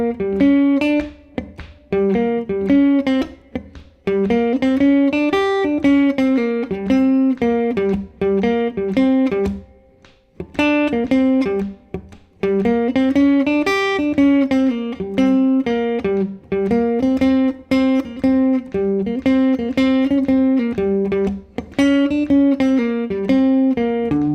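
A jazz guitar plays a single-line bebop solo over a minor blues with no chords, busy streams of fast, clean plucked notes in long phrases with brief pauses, close and clear.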